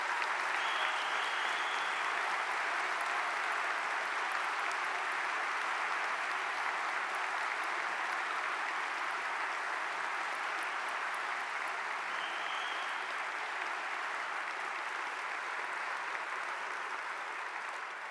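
A large audience at an honors convocation applauds academic assistants, a long, even wash of clapping from many hands that holds steady and fades only slightly toward the end.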